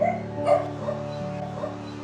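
Dogs at a shelter in the Philippines give short yips and barks with a small whimper, close and brief, over a low steady hum.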